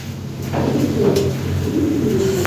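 A pigeon gives a few low, throaty coos close by, repeating in a soft rolling rhythm.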